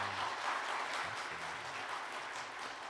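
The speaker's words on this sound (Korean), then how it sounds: "마음 담아 우리 한번 힘차게 박수하겠습니다." A Korean church congregation at Sunday worship gives steady, enthusiastic applause, dense and even throughout the short clip with no talk over it.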